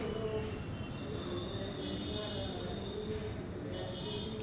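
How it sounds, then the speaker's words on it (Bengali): A train pulls out of NJP station, its steady rumbling roll heard from inside with a faint high metallic whine from the wheels, fairly quiet and continuous, with some talk in the background. "আর এই ট্রেন ছেড়ে দিল এনজেপি থেকে"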